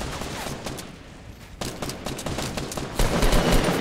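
Rapid gunfire in the Fortnite video game, bursts of sharp overlapping shots that thin out in the middle, then resume and grow louder and denser in the final second, with no talking.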